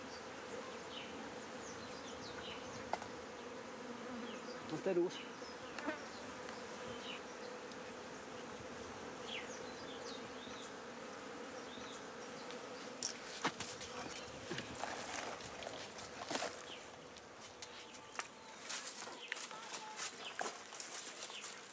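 Bees buzz outdoors in Ethiopia, a faint continuous drone with individual insects passing close, alongside scattered rustling and footsteps.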